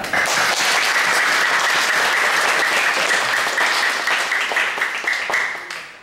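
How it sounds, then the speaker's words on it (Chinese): A church congregation claps in praise during a Taiwanese-language Sunday worship service, a dense, loud, sustained round of applause from many hands that tapers off at the end, with no speech over it. "我们首先先给上帝一个赞美，一个拍掌"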